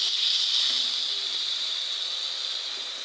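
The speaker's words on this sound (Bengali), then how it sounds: "দিয়ে তারপরে স্বাদ মতো লবণ দিয়া একটু লাড়াচাড়া দিয়ে আদা বাটা দিলাম, দিয়ে এটি কষাই নেব।" Red chili, salt and ginger paste sauté in hot oil, a steady, close hiss of frying that holds even and continuous throughout, with only faint clinks beneath it.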